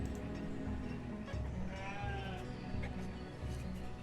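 Sheep in the village-building game Banished bleat in a few drawn-out calls, faint and somewhat distant, over a low continuous background hum of the game.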